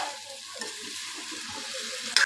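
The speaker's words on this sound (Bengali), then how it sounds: "এখন আমি এই আলুগুলোকে একটু ভালোভাবে কষিয়ে নেব" Potatoes sautéed in a pan for a spicy vegetarian potato curry, giving a steady close sizzle with faint stirring throughout, ending in a brief louder clatter.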